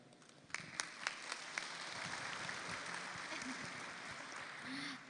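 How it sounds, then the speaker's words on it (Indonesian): An audience claps at a talk, a few sharp individual claps at first, then building into steady, moderately distant applause with faint voices mixed in. "beri tepuk tangan yang meriah sekali lagi"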